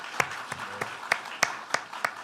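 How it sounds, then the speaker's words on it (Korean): A church congregation welcomes a newly introduced member during a Sunday service with a handful of scattered, separate claps, fairly soft and irregular, spread across a couple of seconds rather than building into full applause. "우리 박수로 환영하겠습니다."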